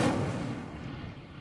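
A blazing fire spell from the Hogwarts Legacy video game erupts in a single loud, booming burst that trails off into a rumbling decay, with no voices.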